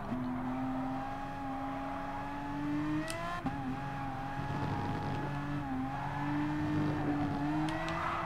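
A car engine in Gran Turismo Sport revving and accelerating steadily, with gear-change pitch drops and a brief click midway, sustained and close with no talk.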